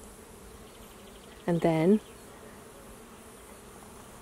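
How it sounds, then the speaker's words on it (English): Bees buzz in a sunlit lavender field in Provence, a steady low hum that fills the whole stretch while a voice speaks briefly partway through. "Can you hear the bees? It is alive with bees."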